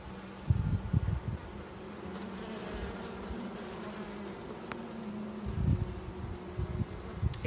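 A honeybee hive accepting a new queen gives off a dense, continuous buzzing drone close by, with occasional louder swells as individual bees fly near.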